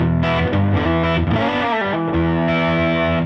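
An electric guitar played through heavy distortion in a live studio room rings out loud and thick, with sustained overdriven chords and a few quick note changes, no voices.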